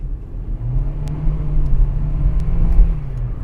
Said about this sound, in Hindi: And now let's just see the acceleration on this.